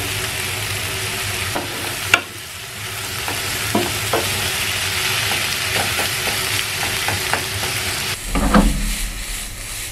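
Sausages and chicken sizzle and fry in a pan while being stirred, a steady close crackle with a few sharp scraping clicks and a louder burst of stirring near the end.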